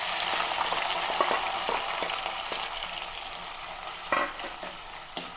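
Curry leaves, split green chili, crushed garlic, ginger and onion hit hot oil in a pan, a bright continuous sizzle with crackling pops and a few louder stir knocks, close and without talk.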